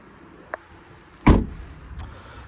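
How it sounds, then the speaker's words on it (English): A 2010 Renault Grand Scenic 1.5 dCi seven-seater MPV door swings shut with one solid thud, preceded by a faint click and followed a moment later by a soft locking click, heard close up outdoors. "I've locked the car now just by shutting the door"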